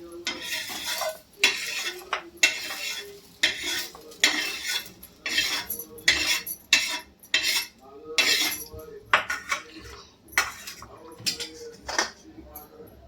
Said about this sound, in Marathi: जास्त काळा मसाला नाही करायचा आहे आपल्याला, थोडासा कच्चा पच्चा भाजायचा आहे